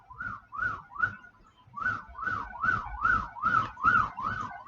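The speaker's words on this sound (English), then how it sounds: "Ambulance." Ambulance siren wailing outside in Singapore, a rising-and-falling two-tone cycle repeating steadily for nearly five seconds, fairly loud and drawing closer, with no talking over it.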